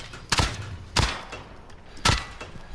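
Short bursts of Uzi and MP7 submachine gun fire at a pop-up target shooting range in the game Modern Warfare, three sharp loud volleys separated by brief pauses.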